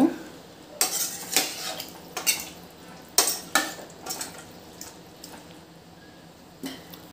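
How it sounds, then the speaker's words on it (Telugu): A spoon repeatedly scrapes and clinks against a metal pot of potato curry with added water, uneven strokes, close and fairly loud, with quiet gaps between stirs. "గ్లాస్ వాటర్ వేసానండి మళ్ళీ ఒకసారి కలుపుదాం"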